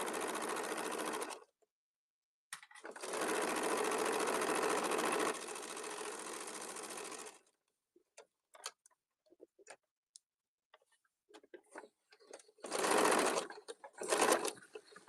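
Sewing machine stitching a fabric pouch at regular stitch length, several bursts of steady close whirring separated by pauses filled with small clicks and handling sounds.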